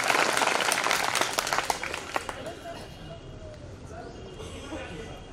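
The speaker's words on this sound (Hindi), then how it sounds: "तो तालियां बजाइए" An audience at a Hindi poetry gathering (kavi sammelan) in Karchhana, Allahabad, breaks into a dense burst of clapping that fades away after about two seconds, leaving a quieter room.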